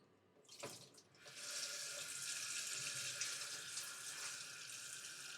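Hot water running from a kitchen tap: a steady, close hiss of flowing water starts after a brief clatter and continues evenly, without talk.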